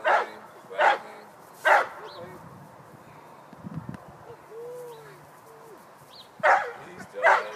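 A dog that pulls hard on the leash during a walk barks five times, in loud spaced bursts with a quieter stretch between them, and faint bird cooing and outdoor noise sit underneath.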